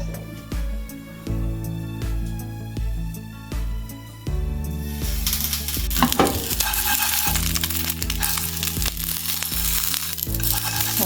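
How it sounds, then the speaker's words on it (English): Meatball mixture cooking in a pan for spaghetti bolognese: steady sizzling and frying starts midway and continues loudly over repeating background music. "we're going to cook this mixture until it's well done"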